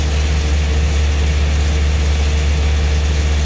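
Tractor engine running steadily during custom planting in a field, a loud, continuous low rumble with no breaks or voices.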